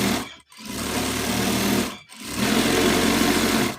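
A sewing machine runs in two long bursts stitching fabric for a triceratops toy, a loud close buzzing whir that stops briefly at each pause.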